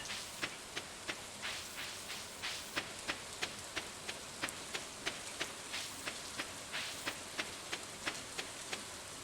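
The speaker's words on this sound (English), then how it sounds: "I say we fish in the rain." Soft, steady rainfall in the video game Stardew Valley hisses in the background while sharp ticking drops land at a regular, rhythmic pace.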